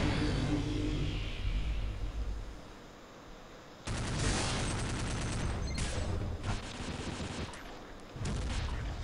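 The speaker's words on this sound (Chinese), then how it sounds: "哇，吓死他在那边丢炸弹！" Bombs exploding in the Counter-Strike Online video game, a loud, dense barrage of blasts and gunfire crackle with sharp bursts and brief drops between them.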